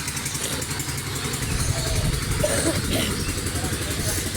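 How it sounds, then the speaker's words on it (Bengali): A boat engine drones steadily at a low, continuous pitch, with voices heard faintly over the running motor. "আবার দেখছি দুটো নৌকা আসছে"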